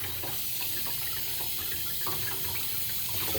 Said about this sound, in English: I wash my fish with cold water